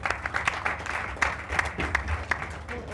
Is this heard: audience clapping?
yes